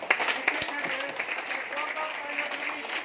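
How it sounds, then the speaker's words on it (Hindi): A seminar audience in Agra claps, giving steady, moderately loud applause with scattered sharper claps, and voices are heard over it. "आप अपनी तालियां बजाएं,"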